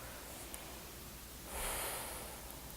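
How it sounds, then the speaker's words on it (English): A slow, deep conscious breath during a yoga flow for neck and shoulders, a soft airy exhale swelling midway through a quiet, hissy room. "And one more conscious breath here."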